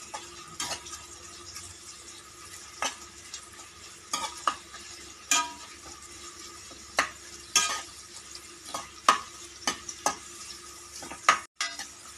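Onions are stirred in a pan while they sauté toward golden for chicken biryani, with a soft, faint sizzle and intermittent scrapes and clinks of a utensil against the pan at an irregular pace.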